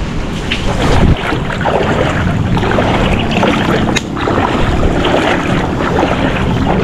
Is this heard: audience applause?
no